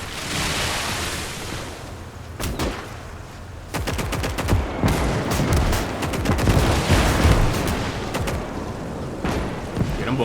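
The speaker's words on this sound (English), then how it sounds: "And there's actually a machine gun right there on the floor." Bursts of machine gun fire crackle in rapid strings through a Call to Arms: Gates of Hell multiplayer battle, with sporadic single shots between dense volleys over steady battlefield rumble.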